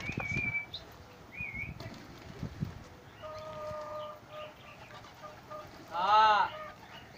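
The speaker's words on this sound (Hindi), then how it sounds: "भूखे थे सारे कबूतर ना, बहुत भूखे थे" Hungry fighter pigeons in Karachi call out in a series of chirps and whistling notes, with a louder burst of harmonic cries near the end, over a low, noisy background.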